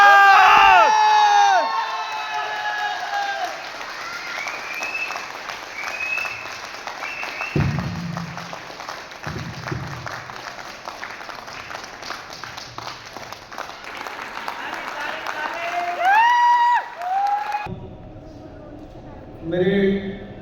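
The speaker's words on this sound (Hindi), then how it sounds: "तालियां जोरदार।" A crowd at a direct-selling business stage event claps and cheers loudly, with whoops and shouts mixed in, while voices and whistle-like tones sound over the applause.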